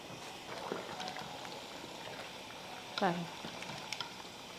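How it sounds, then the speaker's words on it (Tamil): Water bubbles and simmers steadily in a pot of chicken biryani, a soft continuous seething with a few faint clinks and a brief louder rattle partway through. "இப்போ வந்து நல்லா கொதிக்கட்டும், நான் காட்டுறேன் உங்களுக்கு"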